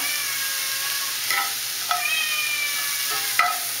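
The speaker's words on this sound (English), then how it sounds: "Sebastian is going to meow constantly in the background" Sebastian the cat meows repeatedly in a home kitchen while chili is being stirred, the drawn-out cries rising over a steady sizzling and stirring background.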